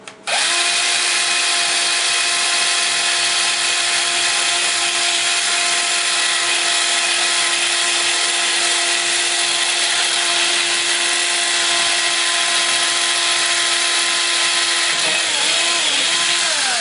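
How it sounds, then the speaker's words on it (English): A power drill runs continuously, boring holes in an Xbox 360 case for a fan mount, with a loud, steady high whine that winds down near the end. "Now I'm going to switch to the larger drill."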